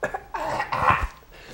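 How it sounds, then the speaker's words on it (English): A person coughs nearby in a few quick harsh bursts, followed by a brief throat-clearing rasp, loud and close with no talk over it. "Had a cough."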